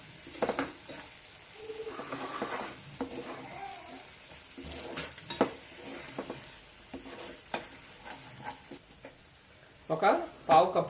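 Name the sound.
stirring spice mixture in a pan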